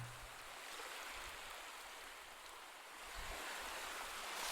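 Sea waves wash onto the shore in a steady, soft hiss of surf that swells slightly toward the end, heard from a distance with no voices.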